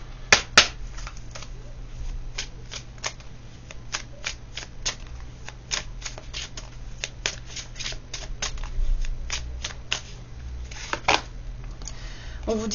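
Tarot cards being shuffled and drawn, with close, crisp riffles and sharp card snaps recurring irregularly over a low steady hum.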